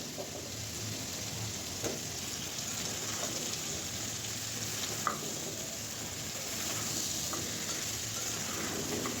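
Cut papaya frying in spice paste, a steady hissing sizzle that holds evenly throughout with only an occasional faint clink, and no voices.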